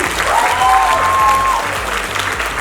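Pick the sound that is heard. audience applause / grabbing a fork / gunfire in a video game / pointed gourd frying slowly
audience applause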